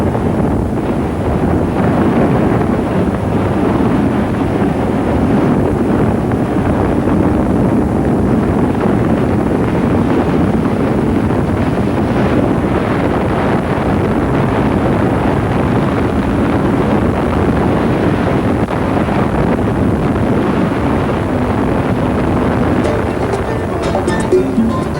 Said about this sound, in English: It's just the wind and the board or the luge is making all sorts of sounds.